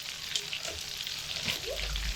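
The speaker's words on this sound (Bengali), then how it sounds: "একটু ধৈর্য ধরে ভাজতে হবে, যেহেতু কাঁচা ফুলকপি সেহেতু ভাজতে একটু সময় লাগবে।" Cauliflower, egg and potato chops frying at medium heat, a soft continuous sizzle of oil close by over a brief stretch, with no voices.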